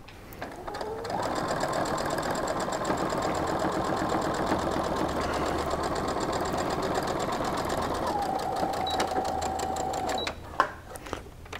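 A home sewing machine stitches a weighted blanket quilt in a steady, continuous whir at an even, slow pace, running for about ten seconds before stopping with a brief click.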